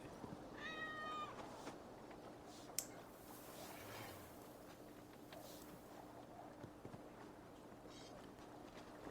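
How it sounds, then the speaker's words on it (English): A cat meows a few times in Assassin's Creed Valhalla, a faint high call early on and again later, over quiet ambient game sound with soft footsteps. "Hey, there's a cat."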